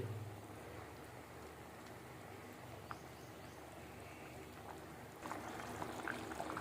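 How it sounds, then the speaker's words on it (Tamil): Low, steady bubbling of dal simmering in a pot, faint and continuous, with a slight rise in activity toward the end. "நல்லா கொதிச்சு வருது."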